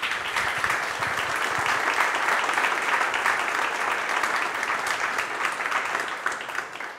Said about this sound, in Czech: poprosím vás o potlesk pro naše hosty a řečníky